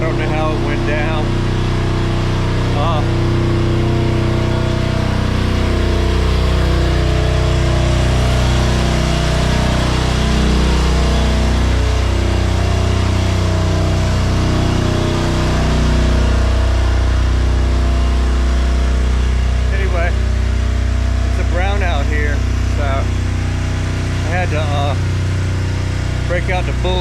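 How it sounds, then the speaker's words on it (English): A Bulldog 6500 diesel generator by Yamada runs continuously during a brown-out, giving a loud, steady low engine hum with slight fluctuations throughout. "Break out the Bulldog diesel generator by Yamada."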